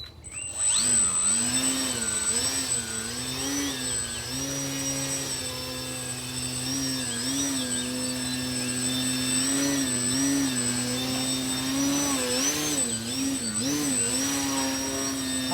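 A small motor whines loudly and steadily, its pitch rising and falling in repeated revs as the propeller speeds up and slows down.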